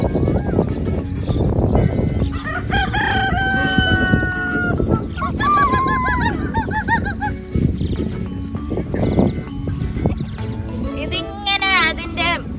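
Free-roaming chickens in an open enclosure at Qatar's Al-Shu'aa nature reserve park cluck and squawk close by in repeated bursts, with a rooster-like call, while people talk over them outdoors.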